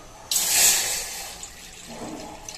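A cupful of water is poured from a small bowl into a heating pan, a bright splashing gush that starts abruptly and trails off into a softer trickle, with no talking.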